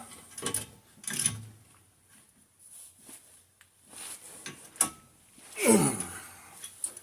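Ratcheting and metallic tool clicks while brake parts are tightened back up on a 2018 Toyota Highlander XLE AWD during a brake service, short irregular close-up bursts with a louder ratchet run near the end.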